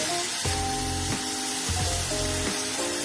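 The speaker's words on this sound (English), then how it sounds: "This mutton is braised over high heat actually to seal the juices and to seal the taste of the meat." Mutton braising over high heat in a kadhai gives off a steady, loud sizzle with a crackling hiss and faint musical tones running through it, and no voices.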